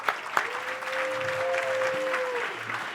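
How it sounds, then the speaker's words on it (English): A conference audience claps continuously, a full even patter of applause at moderate loudness, with a faint sustained tone running beneath it. "Let's give them one more round of applause."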